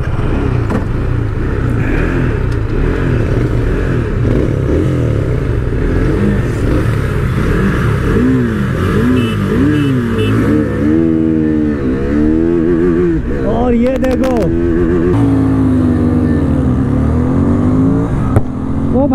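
Two motorcycles, a KTM RC390 and a Royal Enfield Continental GT 650, accelerate hard side by side, with loud continuous engine drone, rising revs and gear-change swoops for nearly twenty seconds, heavy wind rumble underneath.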